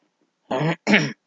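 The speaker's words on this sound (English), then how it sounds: "Pardon my coughing and my voice" Two short, rough coughs in quick succession, close and fairly loud, with silence before and after.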